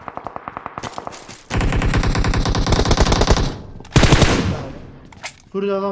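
PUBG Mobile gunfire: a quick string of single shots, then a long loud automatic burst, a brief pause, another sharp volley that trails off, and a final short burst at the end, with no talk.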